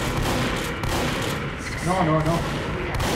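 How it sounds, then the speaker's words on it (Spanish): Super shotgun fire in Team Fortress 2 amid chaotic combat, with heavy blasts and crackling gunfire filling the clip while someone shouts over it. "Vamos con nuestra super escopeta."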